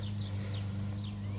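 Birds chirping outdoors, a few short high tweets over a steady low engine-like hum, faint and somewhat distant.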